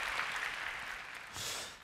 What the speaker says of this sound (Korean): 우리 한번 다 같이 박수하실까요?